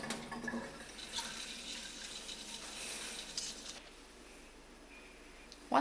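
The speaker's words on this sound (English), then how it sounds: "I rinse the rice a few times" Water running into a kitchen sink while rice is rinsed, a continuous soft splashing and trickling that eases toward the end before a brief louder clatter.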